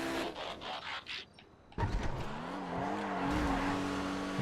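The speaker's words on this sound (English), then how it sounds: "Rapid GTX, final lap." A Rapid GTX race car on its final lap in the video game GTA FiveM, with engine drone and tire noise, a brief drop, then a loud rising rev as it accelerates.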